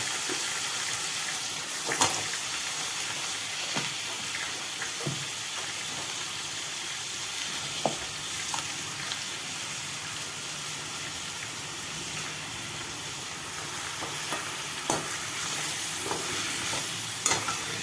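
Soaked brinjal and potato pieces are tipped into a pan and start frying, giving a steady sizzle with scattered stirring clinks and scrapes throughout, fairly close and with no talking.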